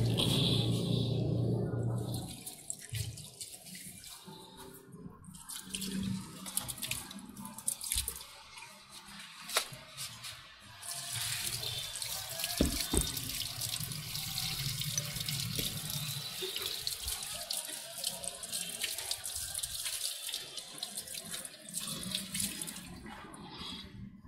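Tap water runs into a sink while soil-covered produce is rinsed and washed clean, a steady broad rush that carries on through the whole stretch with brief dips, with a faint voice now and then underneath.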